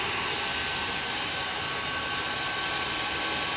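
Compressed air hisses as the compressor fill hose is disconnected from a Benjamin Bulldog .357 air rifle, a steady, even rush of air lasting a few seconds with no talking.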